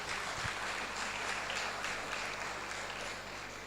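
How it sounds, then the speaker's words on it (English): Audience applauding at the Nigerian Institute of Architects' 41st General Assembly conference and exhibition in Abuja, a steady, fairly faint wash of clapping that holds evenly throughout without talk over it. "I thought we'll give a round of applause."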